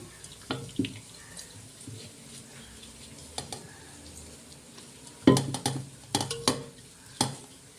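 Soaked soya chunks are strained, their water draining with intermittent splashes, clatters and wet knocks, quiet at first and then a cluster of louder close hits toward the end.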